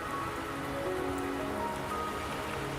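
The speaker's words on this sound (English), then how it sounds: "Don't worry, the rain won't last much longer." Steady rainfall pattering on surfaces in the video game Wuthering Waves, a continuous soft hiss of drops close around the listener with no voices.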